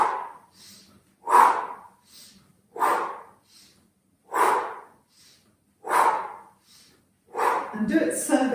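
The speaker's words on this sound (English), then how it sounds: "So we're inhaling and exhaling." Deep, forceful breaths during a breathing exercise, about six evenly spaced rushing inhales and exhales, close and clear against silence.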